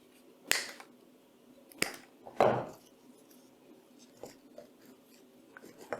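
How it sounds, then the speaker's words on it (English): Faux eucalyptus stems trimmed with a cutting tool, giving three sharp snips near the start followed by a few fainter clicks, each cut standing alone against a quiet background. "so let's trim them down"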